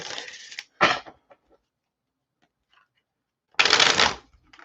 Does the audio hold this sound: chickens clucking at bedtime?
no